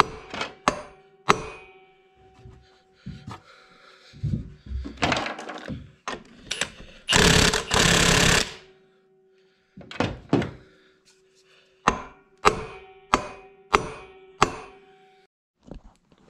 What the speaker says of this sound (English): give it a sharp hit on the end with a hammer